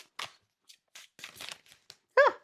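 Tarot cards rustle and snap in quick, irregular bursts, close and crisp, with short silences between the shuffles.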